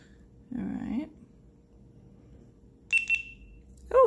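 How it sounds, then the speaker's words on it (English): A short electronic beep from a GoPro Hero 7 camera chirps twice near the end, with a brief rustle before it and another tone starting right at the close. "Oh, it beeped."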